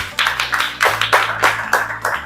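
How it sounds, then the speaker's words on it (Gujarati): A group of people clap in a steady, loud rhythm of about two claps per second at a festive garba gathering, up close, with a low musical drone underneath. "તાળીઓ ભાઈ તાળીઓ"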